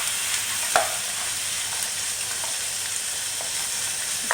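Garlic with paprika and cumin frying in two pans beside fish, a steady bright sizzle with occasional soft utensil taps as it is stirred; no voices.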